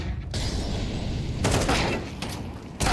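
Bursts of gunfire in a Counter-Strike 2 pro match between BIG and Virtus.pro, loud and dense, with a sharp burst at the end.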